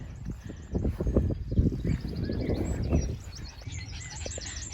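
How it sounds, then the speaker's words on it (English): Birds chirp and tweet in the background outdoors, with a steady rustling and clopping noise in the foreground. "All you can hear is the birds chirping."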